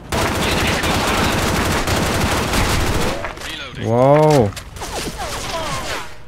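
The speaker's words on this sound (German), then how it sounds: "Ich habe eine Menge Schüsse daneben gesammelt." Rapid automatic gunfire in the video game Special Force 2, loud bursts filling the first half before stopping abruptly, followed by a man's short exclamation and quieter game sounds.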